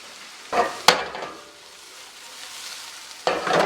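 Vienna sausages and onion frying in a pan to render off fat, a steady sizzle broken by sharp utensil scrapes and knocks against the pan, close and fairly loud.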